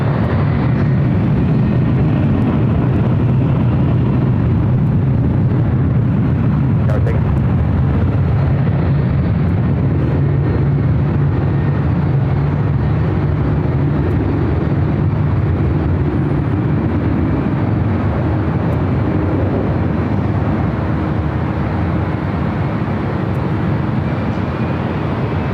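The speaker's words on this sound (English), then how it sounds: "as we do have a takeoff happening on the 24 left" An airliner taking off from runway 24 Left at LAX, a steady, loud low roar of jet engines that holds for the whole stretch with broadband rumble and no voices.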